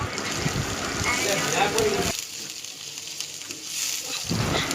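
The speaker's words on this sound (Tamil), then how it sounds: "வெங்காயத்தை நல்லா வதக்கிக்கோங்க." Onions sautéing in oil for a Tamil soya chunk gravy give a steady frying sizzle and crackle, broken by a brief quieter pause partway through before the sizzle returns.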